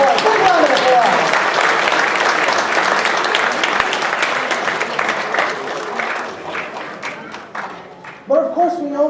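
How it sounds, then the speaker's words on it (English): A crowd at a university chemistry demonstration night breaks into loud, sustained applause that slowly thins out over several seconds before a presenter's voice returns. "Let's give him a big round of applause."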